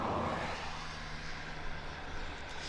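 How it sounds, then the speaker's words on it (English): Conair AgCat crop-duster style biplane landing at Abbotsford, a steady distant engine drone with broadband rumble holding level throughout, no voices over it. "We have an AgCat landing on the other side right there"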